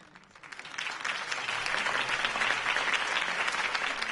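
A crowd applauds after Harvey Dent's campaign speech in the Telltale Batman video game, the clapping swelling up from quiet over the first half second into a sustained, dense roar of many hands.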